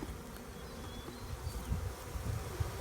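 Honeybees buzz steadily around a hive in a rotten tree, a soft continuous droning hum with a few louder passes close by, and no talk.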